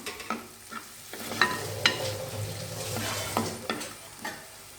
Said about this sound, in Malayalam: അപ്പോൾ നമ്മുടെ മുളക് ഇപ്പോൾ മൂത്തിട്ടുണ്ട്.